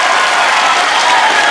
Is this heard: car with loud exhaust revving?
no